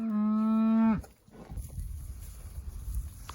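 A cow on a farm pasture lets out one loud, close, sustained moo that cuts off sharply, followed by low rustling and shuffling noise.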